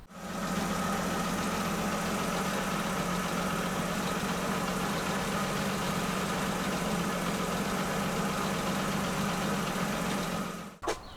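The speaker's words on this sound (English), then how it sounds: "listen to the hissing noise as the engine idles" An AC 2 Litre engine fitted with SU carburettors idles steadily with a constant hiss from the air intakes, a close, even drone that cuts off abruptly near the end.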